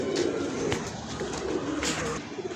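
A pigeon coos softly nearby in low, repeated throaty calls, with a faint background hum.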